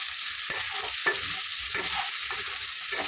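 Chicken fries in oil with turmeric, a close, even sizzle marked by irregular spoon scrapes and stirring knocks.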